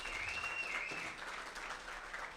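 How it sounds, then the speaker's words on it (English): Audience at a campus environmental evening event applauding, a steady wash of clapping from a crowd heard at a moderate distance, with a brief high whistle early on. "You got a huge round of applause."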